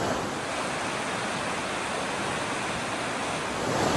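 The Blakeney rapids, a fast rushing river with doubled water flow, roaring as a loud, dense, unbroken wash of white noise that holds steady throughout.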